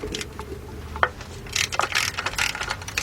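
A ratchet wrench clicks while loosening engine bolts on a 2003 Jeep Liberty Sport with a 3.7 engine, sparse clicks at first and then quicker bursts of close ratcheting in a quiet garage.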